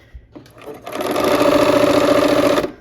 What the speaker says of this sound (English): I have my 1/4 inch foot on, so I know I'm sewing a 1/4 inch away